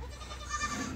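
On a farm, a Sojat goat gives a brief, thin bleat that rises faintly over a constant low rumble of background noise.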